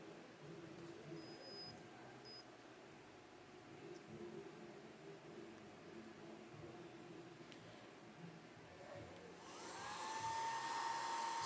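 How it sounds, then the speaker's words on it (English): A Remington compact hair dryer runs with a steady, even whooshing hum that rises to a louder, brighter blow near the end, heard alone at close range. "the Remington hair dryer does in fact heat up"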